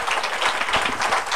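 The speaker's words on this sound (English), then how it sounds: "A round of applause for that." A studio audience on a Pakistani acoustic music talk show bursts into brief, dense applause, a short wash of clapping heard alone.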